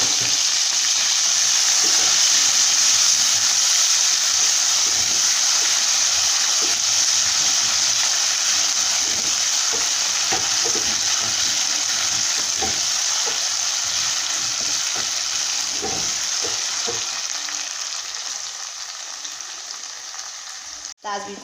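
Roughly blended pepper and onion hit a pan of cooking tomato sauce for peppered kpomo, giving a loud, steady sizzle and bubbling with occasional stirring scrapes throughout, fading slightly toward the end.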